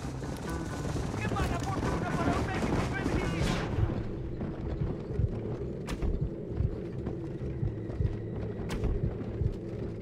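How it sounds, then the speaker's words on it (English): Horse-drawn prison wagons roll along in the Western video game Red Dead Redemption, with clattering hooves and wheels. A burst of rapid gunfire comes first, then scattered shots, with game voices shouting over the commotion. "Prison wagons. That must be them."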